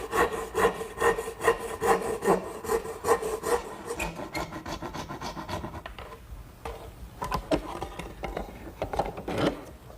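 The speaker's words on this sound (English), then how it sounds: "Now here I'm using my dovetailing saw to notch the bottom of the tenon." A dovetail saw notches the bottom of a wooden tenon with quick, rhythmic rasping strokes, loud and close, slowing into a more irregular scratchy cutting toward the end.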